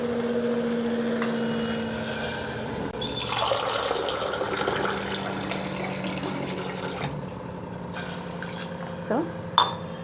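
Water poured into a pot of vegetables and rice for vegetable biryani makes a soft, continuous splashing gurgle that fades, with a clink of metal near the end, under steady speech.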